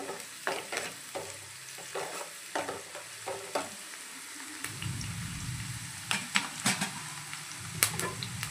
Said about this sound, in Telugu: అలాగే కొంచెం కరివేపాకు, కొంచెం దోరగా అయితే ఫ్రై చేసుకోవాలి.